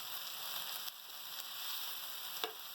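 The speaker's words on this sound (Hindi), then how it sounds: "इसको अब हम देख रहे हैं कितनी तेज़ आंच के ऊपर हम इसको वो कर रहे हैं, सौते कर रहे हैं" Chicken chilli masala coated in soy and chilli sauce sizzles steadily in a pan over a high flame, a continuous bright hiss with a few soft stirring knocks, fairly quiet and alone.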